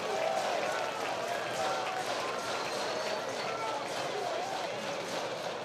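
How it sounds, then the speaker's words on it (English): Texas State baseball fans at a Friday night college regional game banging on metal rails and stomping on the bleachers: a dense, continuous rumble of crowd clatter and cheering, close and steady throughout. "Texas State fans banging on the rails,"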